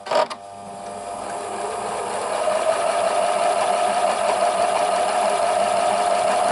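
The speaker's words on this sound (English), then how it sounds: "Now I'm going to turn my sewing machine on" A Pfaff Classic Style Quilt sewing machine, freshly oiled after cleaning, starts with a brief click and then runs steadily. It hums and whirs close up with an even mechanical drone that rises slightly and holds. No one speaks over it.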